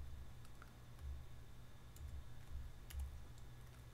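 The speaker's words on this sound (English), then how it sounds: "There's something weird going off my keyboard." Faint computer keyboard typing: scattered soft clicks tap at an uneven pace over a low steady hum, with no talk.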